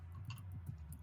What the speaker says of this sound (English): are you hearing me type?